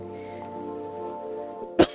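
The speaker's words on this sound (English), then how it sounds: "please excuse the coughing" A single short, sharp cough bursts out near the end, over a steady low electrical hum.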